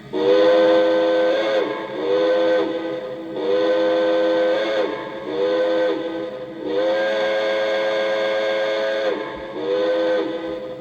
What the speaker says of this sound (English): So there's your whistle.